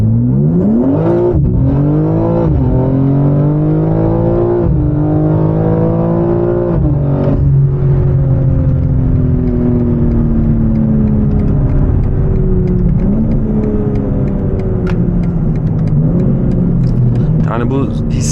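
A tuned BMW G82 M4 (Stage 2, 690 hp) revs hard through several rising gear pulls, loud and close, with a steady drone between shifts.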